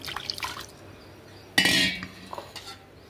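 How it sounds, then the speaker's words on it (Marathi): A little water is poured into a cooking pan holding ground green chilli and garlic while making taro-leaf tikki: a short, loud splash lasting about half a second, with light clinks of utensils before and after and no talking. "थोडंसं पाणी टाकून"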